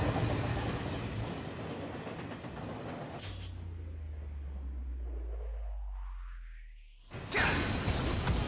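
A subway train in the TMNT Mutants in Manhattan video game rushes past with a loud rising roar and a sweeping pitch glide, then cuts off abruptly as noisy game sound returns.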